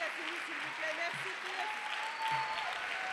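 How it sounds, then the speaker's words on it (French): Audience applause closing a French talk on forest guardians beneath the canopy, a steady faint patter of many hands running throughout, with some voices mixed in underneath. "Et on applaudit."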